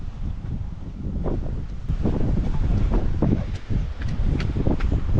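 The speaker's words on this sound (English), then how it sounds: "the weather really started to change at this point and became really blustery" Blustery mountain wind in Ladakh buffets the microphone with a loud, continuous low rumble and gusting roar, along with a few faint higher rustles.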